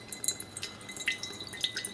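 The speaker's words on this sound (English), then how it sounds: "Now I am going to take my jug and I'm going to extract the coconut juice." Juice from a freshly opened coconut trickles and drips into a jug in quiet, irregular splashes and droplets, faint and close.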